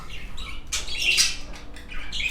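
Budgies squawk and chirp in an indoor bird room housing about 22 birds, with bright, scratchy calls overlapping in bursts near and at moderate loudness, punctuated by a louder flurry in the middle.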